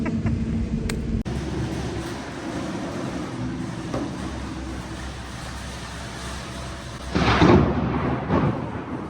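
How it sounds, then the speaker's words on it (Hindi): Thunder during a storm, a low rumbling roll with a few sharp cracks and a louder burst near the end, heard faintly from indoors under steady background noise. "पूरा यहाँ पे बिजली कड़क रही है और बादल से आवाज़ें आ रही हैं"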